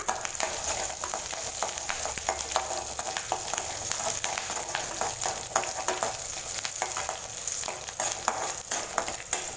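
Green chillies frying in hot oil with mustard seeds and urad dal, a continuous crackling sizzle with sharp pops scattered throughout, close and steady with no voices.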